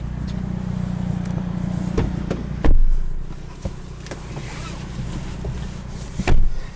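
A 2021 Hyundai Veloster N with a manual gearbox drives along, giving a steady low engine and road rumble with wind noise and several sharp thumps and knocks from inside the cabin.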